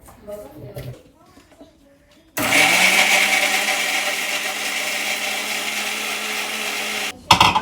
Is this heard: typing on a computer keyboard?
no